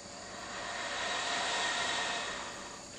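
Air blown steadily through a saxophone mouthpiece makes a breathy, hissing rush that swells in the middle and eases off, alone with no voices.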